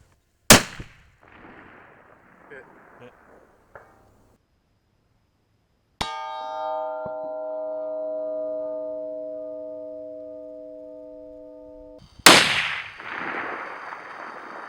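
A 300 Win Mag rifle fitted with a muzzle brake fires outdoors: two loud, sharp, close shots several seconds apart, each followed by a decaying blast and echo, with a long sustained tone between them.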